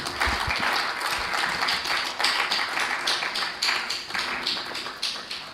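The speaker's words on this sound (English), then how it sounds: "If you actually clap for Mr. Yomi, do it one more time again for him" An audience at an annual teacher seminar breaks into sustained applause, dense overlapping claps rising and falling in waves for several seconds without speech.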